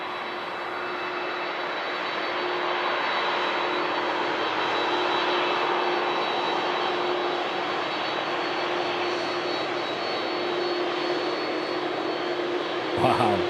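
Airliner powered by GE CF6 jet engines at Manchester Airport, a loud, steady broadband roar with a constant whine holding for the whole stretch before cutting off at the end.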